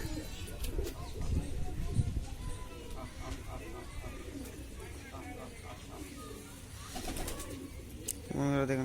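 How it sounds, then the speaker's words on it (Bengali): A pet pigeon coos repeatedly in soft, rolling notes near a trap, set against a busy background of rustling, clatter and other birds. "এই দেখুন আমাদের কবুতরটা ডেকে ডেকে আবার লাফ দিয়েছে"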